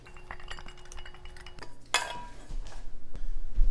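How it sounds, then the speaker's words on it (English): A Danish dough whisk stirs buttermilk and egg into flour in a bowl, giving scraping, clinking strokes with a brief sharper clatter partway through, close and moderately loud with no talking. "Get our handy Danish whisk out and start getting that flour hydrated"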